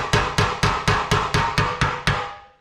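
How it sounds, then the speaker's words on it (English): Nine sharp metallic strikes of a rounded hammer on a 1959 Chevrolet Bel Air valance panel ring out at a steady rhythm, each leaving a brief ringing tail, close and loud. "I'm hammering away on this"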